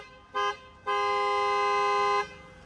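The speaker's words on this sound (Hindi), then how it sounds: "हाइड्रोसोनिक का हॉर्न है और इसमें बिल्कुल क्रेटा टाइप आवाज आती है" A Hydrosonic aftermarket horn fitted to a Maruti Swift sounds at close range, a short toot followed by a longer steady blast of about a second and a half, bright and loud, with no talking.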